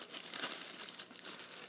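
A plastic bag holding aquarium root caps crinkles and rustles up close as it is handled during an unboxing, a short busy burst of crackling with no talk.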